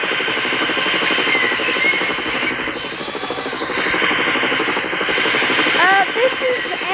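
A helicopter drones steadily overhead with a loud, continuous rotor buzz that holds level throughout, with a few brief whistling tones near the end.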